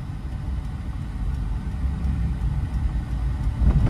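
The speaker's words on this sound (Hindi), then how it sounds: "जाओ हल्का सा रेस लो," A car's engine rumbles low and steady while climbing a slight incline on a gravel-strewn road, growing slightly louder and rougher toward the end as it is revved, with no talk.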